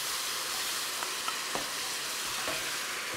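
Pieces of food sizzle steadily in a hot pan as sweet chili sauce goes in, a continuous close frying hiss broken by a few light stirring clicks, with no talking.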